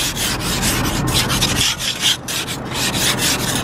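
Ice is scraped off a car windscreen outdoors in cold weather, a steady, close rasping scrape that runs almost without pause, with brief dips between strokes and no talking.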